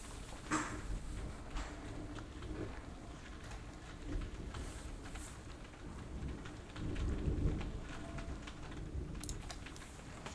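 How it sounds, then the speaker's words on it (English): Heavy rain pours steadily on surfaces while low thunder rumbles swell and fade, with a louder roll building near the end; faint clicks sit beneath the downpour. "it's raining hard."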